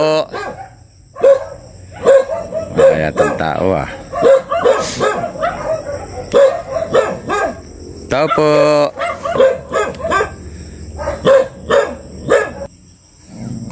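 Several dogs bark and yip in bursts close by, mixed with someone talking over them and occasional whimpering.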